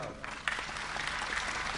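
An audience at a Gujarati comedy dayro show breaks into a short, dense burst of hand applause, with a voice faintly mixed in.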